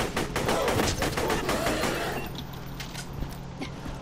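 Rapid bursts of video game gunfire crackle densely through the first half, then thin out into scattered shots against a steady background hum.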